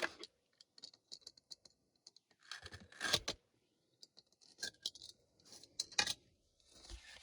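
Cardboard shipping box sealed with tape and glue being cut and pried open, with quiet scratchy slicing, tearing and ticking near the mic and short pauses between.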